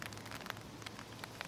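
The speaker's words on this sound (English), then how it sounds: "rain" Steady early-morning rain falls in a dense, even patter of drops, with no voices.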